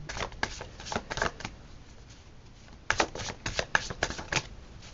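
Tarot cards shuffled and drawn from the deck, quick papery riffles in two bursts separated by a brief pause, close and crisp with no talking.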